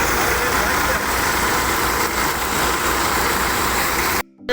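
A farm tractor engine runs near a thresher in a field, a loud steady diesel drone that holds throughout before abruptly cutting out near the end.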